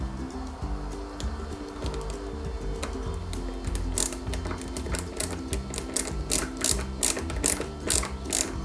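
A screwdriver tightens small screws on a Lancia 037 scale model kit, giving a run of fine ratcheting clicks and light mechanical ticks. The clicks grow denser and sharper toward the end, heard close up with no speech.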